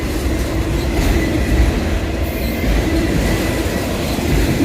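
A freight train hauling double-wide autorack cars rolls past close by, a steady loud rumble of wheels and cars with faint clickety-clack and occasional squeal throughout.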